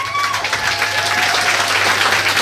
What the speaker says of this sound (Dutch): Maar ik alsjeblieft luid applaus voor Katja Klink.